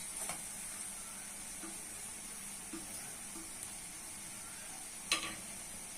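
Onion and ground spices, turmeric, cumin, coriander, chilli and salt, fry in hot oil as a soft steady sizzle, with a few brief stirring scrapes and one sharper clatter near the end; no talking.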